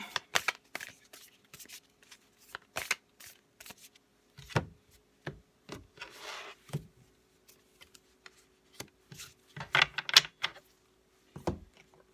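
Tarot cards being pulled from the deck make crisp, close card slaps and flicks, coming in irregular bursts with short quiet gaps.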